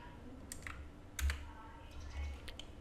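Keys click on a computer keyboard in quiet, brief bursts of typing with short pauses between, faint and close over a low background hum.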